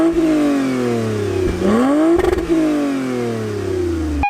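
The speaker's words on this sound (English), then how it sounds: "the exhaust system does increase the sound and makes it much more of a performance sedan in terms of sound" A 2020 Toyota Camry TRD or Avalon TRD V6 sedan's sport exhaust revs up sharply, holds a loud roar, and settles back into a deep, steady idle rumble.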